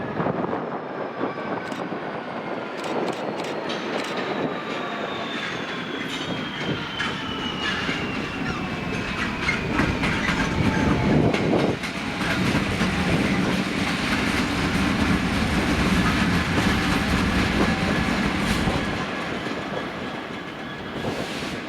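A DB Cargo freight train hauled by class 66 diesel locomotives passes at Doncaster, with a loud, steady roar and rumble of engine and wagons, metallic squeal and rail clatter continuing throughout without speech.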